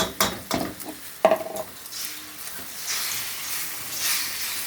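An egg frying in a pan while making egg fried rice gives a soft, steady sizzle, broken early on by a few sharp clinks and scrapes of a utensil against the pan.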